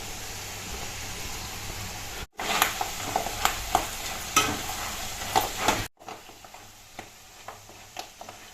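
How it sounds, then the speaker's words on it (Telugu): Dried red chilies and curry leaves sizzle in hot oil in a pan for a Telugu poha tempering, a steady close crackle with bright pops and spits, stirring scrapes throughout, and two brief cuts in the sound. "ఎండుమిర్చి, కరివేపాకు వేస్తున్నాను"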